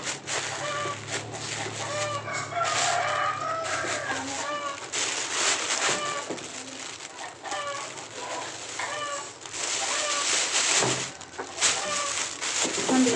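Farmyard chickens cluck steadily while a rooster crows now and then. The calls come through a busy, continuous background with faint voices mixed in.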